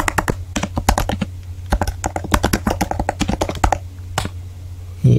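Close, crisp typing on a computer keyboard with quick runs of key clicks broken by short pauses, alone without talk.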